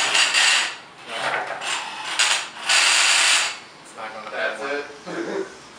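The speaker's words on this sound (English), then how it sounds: "it actually grinds as it's going up because the shaft got bent through all the use of shooting the demo" A homemade 80/20 aluminum robot lift for an FTC Cascade Effect robot grinds and clatters on its bent shaft as it rises, giving loud mechanical scraping bursts in uneven surges, close up.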